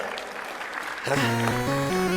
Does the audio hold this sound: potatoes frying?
no